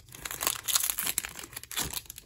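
A Pokémon TCG Vivid Voltage card pack wrapper being torn open, close crinkling and ripping of foil plastic in short bursts over a couple of seconds.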